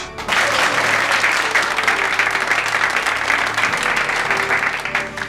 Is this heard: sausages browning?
no